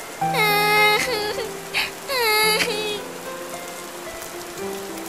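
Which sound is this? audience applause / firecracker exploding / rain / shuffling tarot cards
rain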